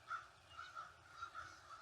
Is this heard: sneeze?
no